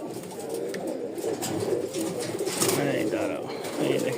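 Pigeons coo close by at a pigeon market, with repeated soft, throaty calls amid a busy crowd murmur and a voice talking intermittently.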